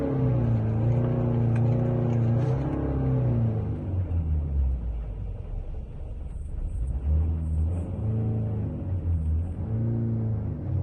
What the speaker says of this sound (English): Let's put a small load on the engine and record how it performs.